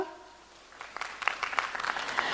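An audience at a Kathak dance festival breaks into applause for the tabla player, the clapping swelling from scattered claps into steady, moderately distant applause.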